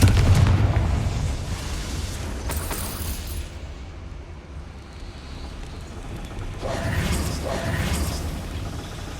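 A Confringo fire curse spell explodes in Hogwarts Legacy, a loud booming burst with rumbling fire that fades, then a second blast swells near the end.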